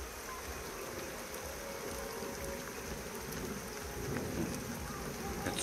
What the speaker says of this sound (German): Jetzt kommt wieder Regen.